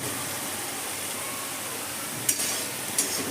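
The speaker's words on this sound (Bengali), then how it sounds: "দেখুন, আমার টমেটোটা কিন্তু খুব সুন্দর করে ভাজা হয়ে গেল, টমেটোর কাঁচা গন্ধটা নেই।" Tomatoes fry in a pan for shahi paneer, a soft continuous sizzle with two brief louder scraping stirs near the end, fairly quiet and with no talk.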